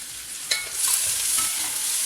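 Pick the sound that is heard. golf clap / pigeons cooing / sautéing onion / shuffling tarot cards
sautéing onion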